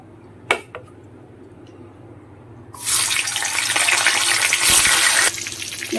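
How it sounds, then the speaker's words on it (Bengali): Hilsa fish head, rubbed with salt and turmeric, hits hot oil in a wok and a loud, steady frying sizzle starts a few seconds in and keeps going, after a couple of faint clinks at the start. "এবার মাথাটাকে প্রথমে ভেজে নেব।"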